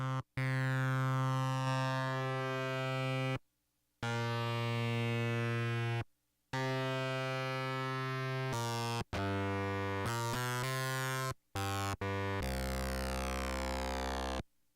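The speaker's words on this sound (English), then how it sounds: "Next comes the D11 fold back distortion, a simple distortion effect." Loud buzzy, harshly distorted synth tones through a Reason D11 foldback distortion effect play in separate bursts with short silent gaps, the pitch and grit shifting from note to note.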